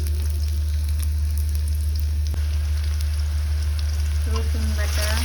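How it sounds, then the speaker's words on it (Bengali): Onions and bay leaves hit hot oil for a chicken curry, giving a loud, dense, steady sizzle close up, with a sharp crackle midway and a brief scraping stir near the end. "এখন হচ্ছে পেঁয়াজগুলো দিয়ে দেব"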